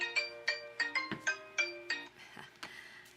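A phone ringtone plays as a bright, repeating melodic pattern of short chimed notes, clear and alone at moderate volume, with a couple of soft thuds mixed in.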